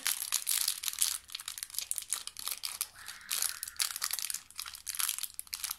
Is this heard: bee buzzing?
no